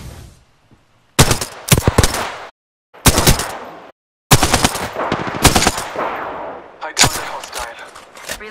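Gunfire in Apex Legends comes in several loud, close bursts of rapid shots separated by short silences, each burst a few seconds long with sharp cracks.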